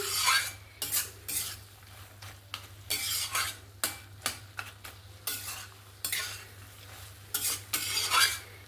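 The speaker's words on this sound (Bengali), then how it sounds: "মাথাটা দিয়ে ভালো করে আবার নাড়াচাড়া করে নিচ্ছি।" A spoon stirs fish heads through a pan of ash gourd curry with mung dal, giving repeated close scraping and clinking strokes in an uneven rhythm over a faint steady hum.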